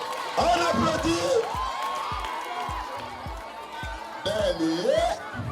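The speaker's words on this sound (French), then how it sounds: "Rosia, on applaudit pour elle. On applaudit." At a high school ceremony, a crowd cheers and whoops for a student over a rhythmic pounding beat, with lively voices shouting in bursts near the start and again toward the end.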